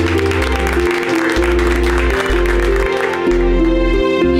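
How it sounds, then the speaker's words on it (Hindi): Audience applause welcoming a team that holds a national record, loud and sustained over a steady low musical drone throughout. "इनका जोरदार तालियों से स्वागत किया जाए।"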